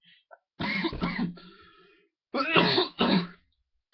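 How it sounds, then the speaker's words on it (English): A person coughs and clears their throat in two close, harsh bursts, the first followed by a raspy trailing breath and the second a quick double hack, with quiet between. "Wow, I have a bad cough."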